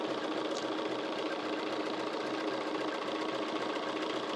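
A sewing machine stitches quilt fabric in a steady, fast mechanical whir with a constant rhythmic needle chatter, close and even throughout, with no voices.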